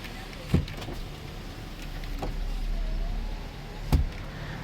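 Power windows on a 2006 GMC Sierra SLT Z71 pickup run with a steady motor hum and whine, framed by sharp clicks near the start and end as each window stops.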